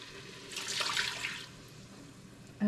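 Water poured into a soup pot, a short splashing, gushing pour that swells for about a second and then fades into quiet room tone.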